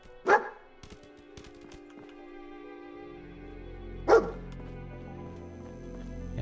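A dog barks in Fallout 4: two sharp single barks about four seconds apart, close and clear over a steady low game ambience with a droning hum.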